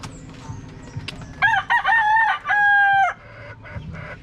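A red junglefowl's crow rings out close by in a few rising and falling segments, ending in a long held note, over low background noise.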